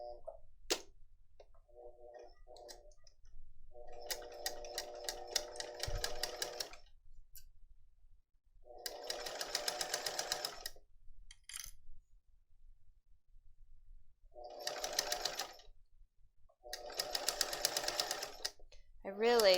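A sewing machine stitches a messenger bag in several separate bursts of rapid mechanical whirring, some short and some lasting a couple of seconds, with quiet pauses between runs and faint clicks.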